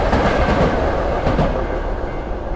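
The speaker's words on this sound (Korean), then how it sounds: "전철 소리가 엄청 가까이에서 들리는데?" A subway train rumbling past close by in a horror video game, a loud, dense, continuous roar with faint rhythmic clatter of wheels throughout.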